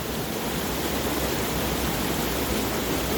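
Steady rushing water of a creek flowing over boulders, a continuous broadband wash heard alone with no voices.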